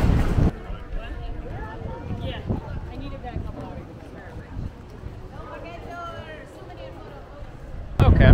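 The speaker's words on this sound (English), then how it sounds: "It's very windy out here today, so sorry if you're catching a lot of that." Heavy wind buffets the microphone at Horseshoe Bay Beach in Bermuda, a steady close rumble with gusts and low thumps, while a voice talks over it and loud bursts open and close the stretch.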